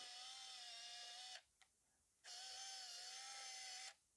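A Konica Z-up 110 VP film camera's zoom motor whines close up in two steady electric runs of about a second and a half each, with a short mechanical click between them.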